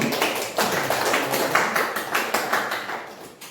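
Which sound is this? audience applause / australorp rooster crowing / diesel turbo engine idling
audience applause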